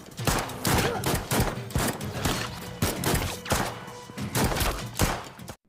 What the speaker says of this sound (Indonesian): aksi baku tembak pun terjadi dan mereka saling bunuh dan hanya Danny yang selamat